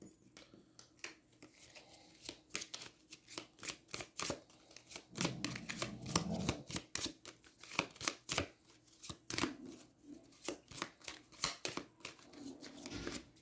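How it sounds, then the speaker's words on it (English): A deck of game cards for a solo fantasy deck-building card game is shuffled by hand, giving a rapid series of crisp riffling snaps and soft slaps that repeat in quick bursts, close up, with no talking. "I probably shouldn't be shuffling off camera"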